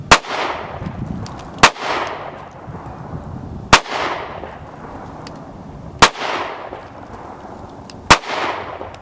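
An Alpha Foxtrot AF-C pistol with an aluminum frame, a Glock-style handgun, fires five sharp, loud gunshots at a range, spaced about two seconds apart, each with a reverberant tail fading under steady background noise.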